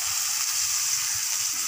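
Potatoes go into a hot pan of oil and fry with a steady, bright sizzle, close and continuous with no pauses or voices.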